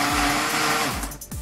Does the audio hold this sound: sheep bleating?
no